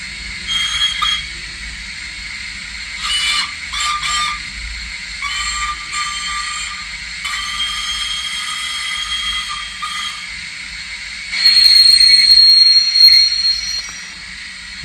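Hornby HM7000 Bluetooth DCC sound decoder in a model locomotive playing railway effects: steady engine hum with whistle-like tones and a louder squealing burst near the end, all fairly close and without speech.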